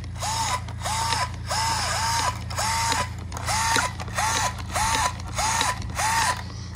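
An overturned Arrma Granite Grom RC car with a 4500kv motor and 30-amp ESC whirs in about nine short, evenly spaced bursts as its motor strains to flip the vehicle upright, each pulse a rising mechanical whine.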